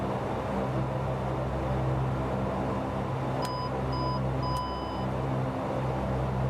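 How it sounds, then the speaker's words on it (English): A Dash 8 cockpit in X-Plane 12 sounds a takeoff warning of a few short electronic beeps in a broken pattern. The beeps ring clearly over a steady low engine and cabin hum. "see if we get a takeoff warning beep"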